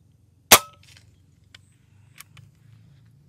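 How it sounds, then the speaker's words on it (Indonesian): One crisp shot from a Winchester lever-action PCP air rifle pops loudly, then quiet small clicks and rattles trail off against a low background hum. "Tembakan kedua."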